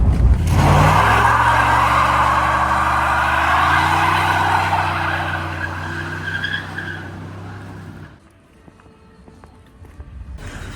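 A Bentley with traction control off spins its wheels, its engine roaring loudly and tires squealing up close. The sound fades away after about eight seconds.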